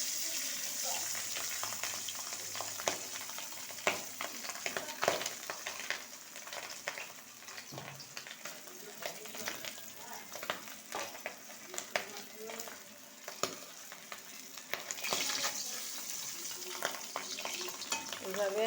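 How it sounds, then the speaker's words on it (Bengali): Pabda fish frying in hot oil, a steady close sizzle with crackling pops and bursts throughout, occasional brief louder spatters and faint kitchen clatter. "তেল গরম হয়ে গেছে, এবারে একে একে মাছগুলো ভেজে নেব।"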